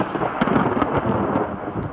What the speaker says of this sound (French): on est pris dans un orage